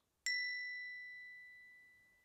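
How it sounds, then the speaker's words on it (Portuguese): A single clear bell strike rings out to mark the next stage of a prosperity ritual, a bright ding that sustains and slowly fades alone in near silence. "você irá ouvir um som de um sino parecido com este"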